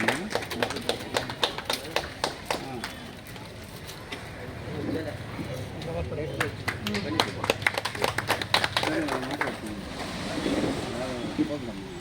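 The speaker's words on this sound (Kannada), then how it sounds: "ಚಪ್ಪಾಳೆ." Audience clapping at an Independence Day felicitation event led by a BJP leader, scattered sharp claps coming in bursts under ongoing voices and crowd chatter.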